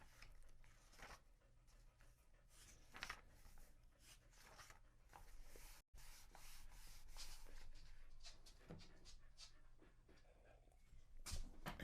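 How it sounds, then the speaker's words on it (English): A dog pants quietly and steadily at close range indoors, soft rhythmic breaths with occasional rustling and rubbing sounds, faint overall. "While Lucy is panting"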